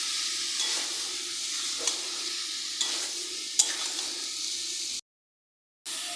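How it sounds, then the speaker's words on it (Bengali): Squash and potatoes being stir-fried with spices in hot oil, a steady sizzle broken by repeated scraping strokes of a spatula against the pan, close and even, with a brief silence near the end. "এরপর আমরা স্কোয়াশ আর আলুগুলো দিয়ে দেব, দিয়ে ভালো করে আবারও কষবো"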